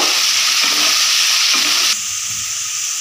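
Potatoes seasoned with salt and turmeric fry in a pan with a loud, steady sizzle and hiss, stirred as they cook; the sizzle drops noticeably quieter about two-thirds of the way through.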